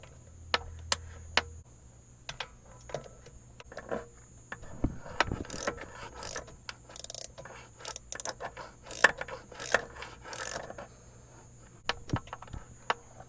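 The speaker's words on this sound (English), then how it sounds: "This is a ratchet and wrench, y'all." A ratchet and wrench seat and snug the driveshaft bolts on an S550 Mustang up on a shop lift, with bursts of rapid metallic clicking between sharp single ticks, close and moderately loud.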